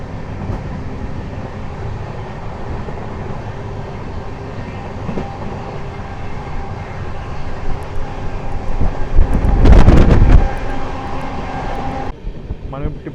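Onboard the 16589 Rani Chennamma Express, an express train on the Bengaluru–Hubballi route, a steady loud rumble and rattle fills the carriage and swells into a heavier roaring clatter for a few seconds before easing.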